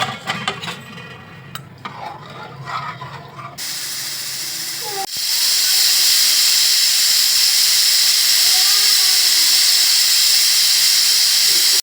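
Pressure cooker on the stove cooking Maharashtrian masale bhat with coriander, lid fitted; after a few seconds of soft stirring and pan clatter, a loud, steady jet of hissing steam starts and holds to the end.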